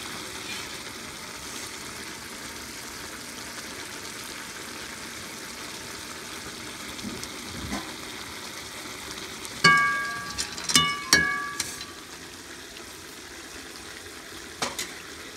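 Soft continuous sizzle of potatoes, pasta and onion cooking inside a Kyrgyz tent in the Pamir Mountains, with a few sharp clinks of a utensil against the pot partway through.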